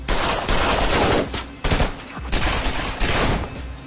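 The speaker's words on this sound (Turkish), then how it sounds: "Dikkatli sık Yasin." Gunfire in a shootout: dense bursts of rifle and automatic shots, loud and close, in sustained volleys with brief gaps, with no talking.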